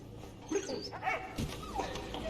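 A dog yipping and whimpering in the Valiant Hearts: The Great War video game, a few short high barks and whines in quick succession over a faint game background.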